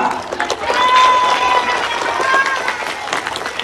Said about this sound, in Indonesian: boleh beri tepuk tangan dari meriah